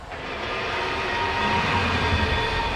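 A possessed bulldozer in the video game Alan Wake gives off a loud, steady, continuous low rumble and mechanical roar, with a dense drone that holds throughout without a break.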